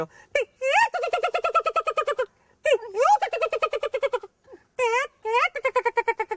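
A human voice mimics a hornbill's call: rapid, repeated honking-whistled notes in several bursts, loud and close, with short pauses between them.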